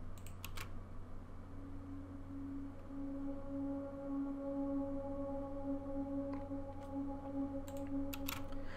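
Soft synth pads from the free Labs Arctic Swells Decay plugin sustain quietly as faint drawn-out tones, with a few small clicks scattered over them; no one speaks.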